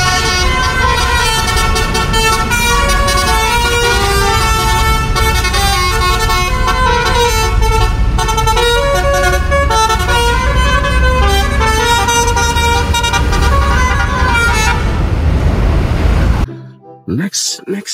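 A passing Arimbi tour bus sounds a loud melodic multi-tone horn, playing a long sustained musical tune close by for over fifteen seconds before cutting off, followed by brief background noise.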